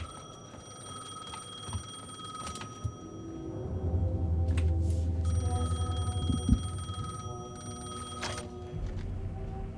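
A telephone rings in the video game Alan Wake II. A bright, metallic bell ring repeats in bursts over a low rumbling ambience, fairly close and loud, with no voices.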